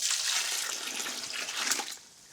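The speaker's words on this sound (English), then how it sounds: "and then you just add water" Water poured into strained, used clay kitty litter, a steady rushing splash and trickle heard up close and alone, fairly loud throughout before easing off at the end.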